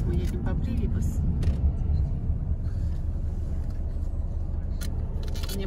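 A car driving along Brivibas street in Riga, giving a steady low road rumble and engine drone throughout, with faint clatter above it.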